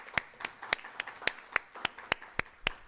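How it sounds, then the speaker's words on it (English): About a dozen separate, evenly spaced hand claps at a university international festival session, faint and fairly distant, with no voices heard. "A round of applause, colleagues."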